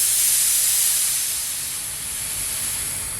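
A paint spray gun turned way down splatters texture product in a loud, continuous close hiss that holds steady and eases slightly midway, with no voices.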